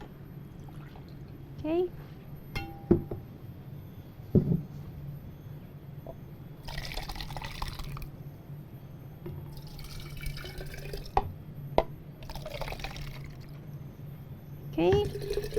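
Coconut kefir water is poured into a cup in short trickles and drips, faint and close, mixed with quiet talking and small clinks.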